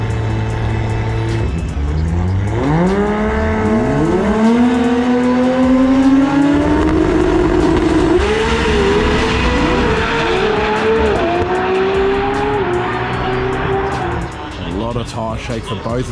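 Drag racing engines rev and scream at Sydney Dragway, pitch climbing repeatedly as cars launch hard, with crowd noise and a commentator's voice underneath.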